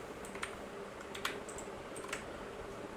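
A computer keyboard clatters faintly as someone types Python code, with scattered clusters of quick key clicks over a quiet room hum.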